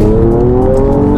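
A Mercedes-AMG E53 Convertible's engine drones steadily while cruising in a high gear, a loud, continuous tonal hum with road noise and no voices.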